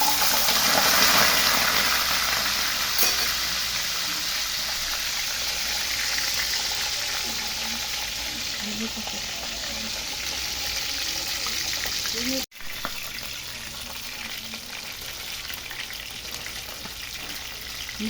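Tilapia frying in a hot pan gives a steady, loud hissing sizzle throughout, briefly cut off partway before the frying hiss resumes, with low voices faintly in the background.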